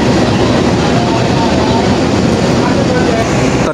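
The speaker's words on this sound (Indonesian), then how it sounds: "sekarang rangkaian Argo Merbabu dilangsir ke jalur 5 stasiun Cirebon" The Argo Merbabu passenger train is shunted onto track 5 at Cirebon station, a loud, steady rolling rumble of wheels and carriages that holds without a break from start to finish.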